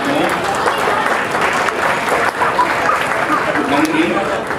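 An audience at a Tamil Sangam event breaks into sustained, dense applause, loud and continuous, with voices mixed into the clapping.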